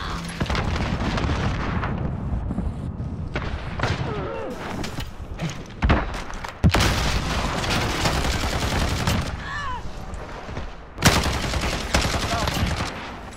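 Sustained, loud automatic weapon fire in a Call of Duty Hardcore Headquarters match, with rapid repeated shots broken by brief pauses and a few sharper blasts, mixed with game radio chatter.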